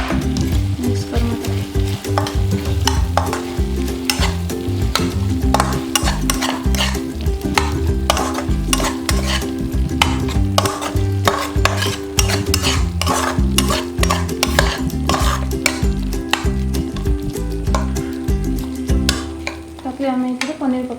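Paneer masala for matar paneer is stirred and fried in a pan, giving a loud, continuous close sizzle with constant scraping and stirring strokes throughout, with no talking.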